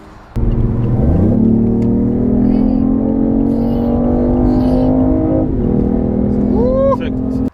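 A BMW i8 hybrid sports car engine pulls hard, its steady tone rising in pitch as it accelerates, then easing off, heard from inside the car.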